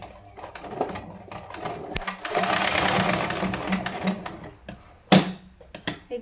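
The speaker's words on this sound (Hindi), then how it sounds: "और इसे अच्छे से सिलाई कर लेंगे।" A sewing machine stitches a drawstring into a child's lehenga in a short loud burst of fast rapid needle clatter, with quieter handling clicks and thumps around it and a sharp knock near the end.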